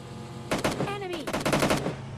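Bursts of automatic gunfire in the mobile shooter game PUBG Mobile Lite, two rapid volleys of shots separated by a brief pause, loud and close over a low background hum.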